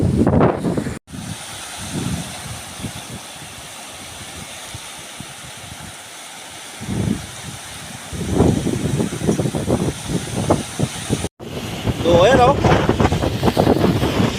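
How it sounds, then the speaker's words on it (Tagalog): Strong gusty northeast monsoon wind rumbles against the microphone over the wash of heavy waves nearly two meters high at Curias Island, with voices speaking intermittently through the noise. "Grabe yung alon"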